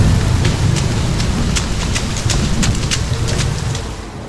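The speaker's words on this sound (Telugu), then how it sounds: "పర్వతంపైకి చేరుకోగానే వర్షం మొదలైంది" Steady rain falls on a hilltop in the Chhattisgarh hills, a dense, even hiss of drops close by with no voices over it.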